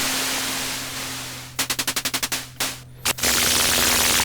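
A self-patched Eurorack modular synth blurts harsh percussive noise: a rapid stutter of about eight sharp hits, a couple of isolated bursts, then a sustained roar of loud gritty noise over a constant low hum.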